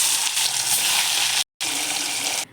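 Bhola fish fries in hot mustard oil in a kadai, a steady broadband sizzle that runs loud and close, cuts out briefly for a moment, then resumes just as strongly.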